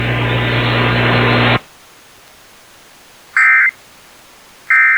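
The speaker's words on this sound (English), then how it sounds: "The following tones will conclude this test." Emergency alert system test closing tones: a loud buzzing two-tone burst ends abruptly, followed by silence and then two short, evenly spaced high beeps.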